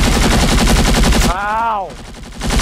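A turret in a video game fires a sustained, loud rapid burst of gunfire, broken midway by a voice with rising and falling pitch before the firing resumes.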